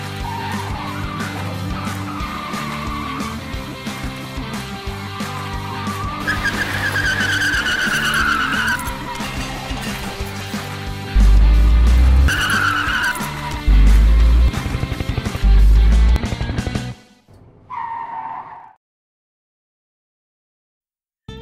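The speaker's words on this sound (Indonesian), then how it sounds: "Skill mengendari Baby yang di atas rata-rata dapat dengan mudahnya menghindari kejaran para mobil polisi." A getaway car's tires skid and squeal in a movie car chase with police cars, amid roaring engines and heavy thumping, loud and continuous, then the noise cuts off abruptly with a brief fading tone.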